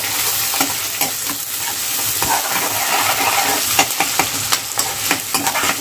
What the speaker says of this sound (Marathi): कांदा चांगला आपण तेलामध्ये फ्राय करून घेऊया